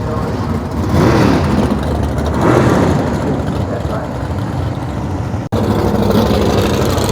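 A 383 Plymouth Cuda muscle car engine roars at a drag strip, a loud continuous rumble that swells around the first and third seconds, drops out for an instant near the end, then picks up again.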